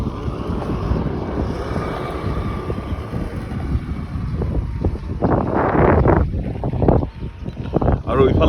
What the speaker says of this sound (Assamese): বতাহ দি আছে খুব ঠাণ্ডা বতাহ